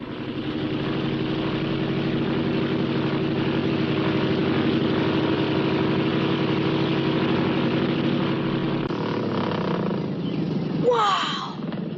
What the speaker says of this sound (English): Seen an airplane, Belle?